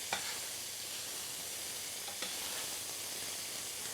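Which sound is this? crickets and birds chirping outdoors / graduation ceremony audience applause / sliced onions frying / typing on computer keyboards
sliced onions frying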